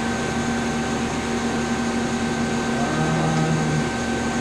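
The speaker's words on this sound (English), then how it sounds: "it's going to close the sub spindle" A CNC lathe's sub spindle closes onto the main spindle under a steady machine-shop hum, with a brief rising whine near the end as the spindle moves into place.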